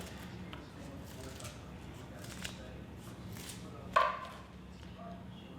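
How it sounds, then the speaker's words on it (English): Fresh chives trimmed over a potato salad: one crisp, faint snip stands out against a quiet room background. "Because I've got fresh chives, I'm going to just trim them over the top"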